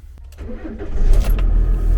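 A van engine cranks briefly with a key turn, then catches and settles into a steady, loud idle rumble close by.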